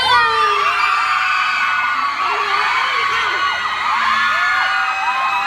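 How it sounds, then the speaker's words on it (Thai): A large crowd at a Thai Airways event at Siam Paragon screams and cheers loudly and continuously, high shrieks and whoops layered together without a break. "เสียงกรี๊ดให้คุณก้งอีกสามครั้งได้ไหม"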